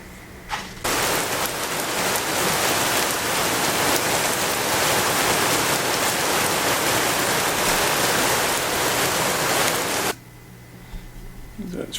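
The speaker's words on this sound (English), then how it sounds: "It's raining out there." Steady heavy rain falling outside, a dense even hiss that starts abruptly and runs loud and unbroken for about nine seconds before cutting off to quiet room sound.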